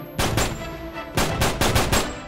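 A powerful gun fires in Uncharted 3: Drake's Deception. A loud, close burst of two shots comes first, then a rapid run of four more after a short pause.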